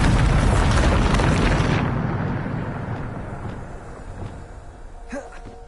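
Bombarda spell blast in Hogwarts Legacy: a loud, booming explosion roars and rumbles for about two seconds, then fades into a softer lingering crackle with faint debris.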